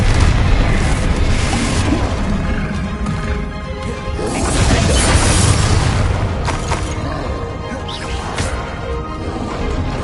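Bombarda spell explosions erupt in Hogwarts Legacy amid dense game combat, loud crashing booms and smashing debris continuing in a thick, busy wash throughout.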